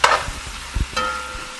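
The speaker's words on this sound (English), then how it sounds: "so I stir fry my chicken" Chicken stir frying in a pan gives a soft, steady sizzle with a few dull scraping knocks of stirring, close by and otherwise quiet.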